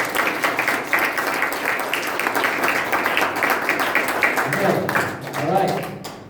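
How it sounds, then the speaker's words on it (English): A group of people practice clapping together in a class session, with a continuous stream of overlapping hand claps mixed with voices talking throughout. "So when I record, I need all of you just claps"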